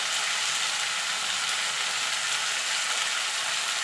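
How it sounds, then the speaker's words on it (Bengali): Potato, drumstick pieces and tomato fry in a pan, giving a loud, dense, continuous sizzle with no pauses, close up and alone. "আলু, সজনার ডাঁটা, টমেটোটা মিনিটখানেক আমি একটুখানি নাড়াচাড়া করে নেবো"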